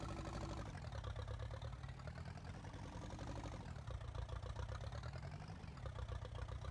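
A Ferguson tractor idles in Farming Simulator 19 with a steady, continuous engine rumble that holds an even level throughout, and no voices are heard.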